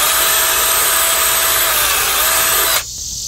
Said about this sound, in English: That smaller hole will guide the larger drill bit into the right place.